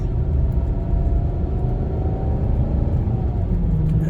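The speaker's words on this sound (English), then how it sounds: "I like the downshift right here" A 2013 Maserati Quattroporte M139 downshifts as its engine note rises, a loud, steady car rumble and engine drone heard from inside the cabin, with no talking.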